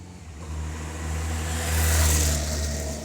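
A motorbike passes close along the left-hand side of a road, heard from a car parked at a junction: a steady low engine drone swells to a loud peak midway, then eases slightly as it goes by.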